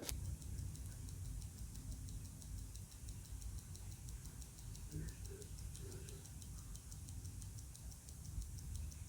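Quiet, fast, even ticking of a Hamilton Khaki watch's 4 Hz 9415 mechanical movement sounds over a low background rumble, with a brief murmur of voice partway through.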